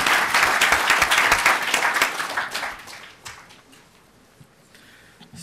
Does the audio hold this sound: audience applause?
yes